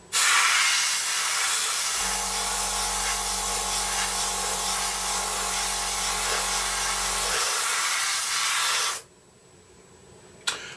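A spray gun paints the wings of a Su-27UB scale model, making a steady, close hiss for about nine seconds under a low mechanical hum, then cutting off to near silence.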